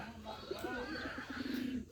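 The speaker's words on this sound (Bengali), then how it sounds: "এখন দেখুন কবুতরগুলো এখন খাবার খাই যাচ্ছে গিরিবাস বোম্বাই এবং বাঘা কবুতর" Soft, repeated coos of Giribaz, Bombai and Bagha pigeons feeding, rolling in a low steady rhythm, close by, with faint background noise and a hint of murmured voice.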